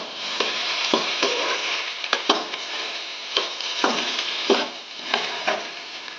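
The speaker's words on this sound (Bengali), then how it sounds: "হলুদটা দেওয়ার পর আমরা একটু ভালোভাবে ভেজে নেব ভেন্ডিটা" Okra sizzles steadily in hot oil in a pan with turmeric added, a close, continuous frying hiss broken by repeated light stirring clicks and scrapes, with no talking.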